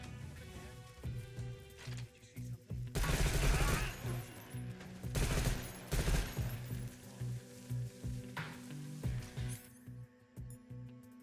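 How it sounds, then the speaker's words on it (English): Gunfire in Metal Gear Solid 3: Snake Eater, distant bursts of automatic shots in clustered volleys with gaps between, moderately loud over a quiet game background. "Some dude that's not even near us shooting"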